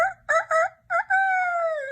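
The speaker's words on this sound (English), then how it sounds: "The next morning, Rooster crowed," A loud, close rooster crow, choppy opening notes followed by a long drawn-out call that falls slightly at the end.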